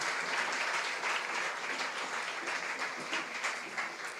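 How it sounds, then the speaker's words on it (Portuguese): A church congregation applauding during a sermon, sustained dense clapping from many hands filling the room at an even level. "Dê uma salva de palmas a Jesus."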